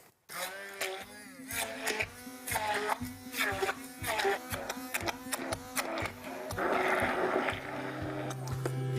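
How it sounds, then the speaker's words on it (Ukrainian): Blender pureeing boiled chunks of celery root, a loud continuous motorized whir with shifting pitch and churning texture throughout, heard alone without talk. "Тепер заряджаємо блендер."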